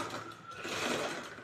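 A sewing machine runs steadily, stitching a blouse with a continuous close mechanical whir.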